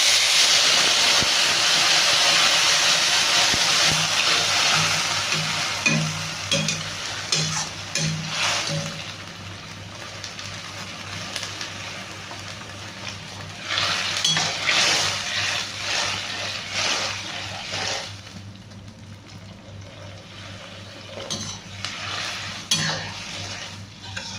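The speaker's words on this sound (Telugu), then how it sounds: "హాట్ వాటర్ వేస్తున్నాము." Steady hissing and sizzling as hot water hits a hot pan of vermicelli, with faint stirring and clinks of utensils against metal; no talking.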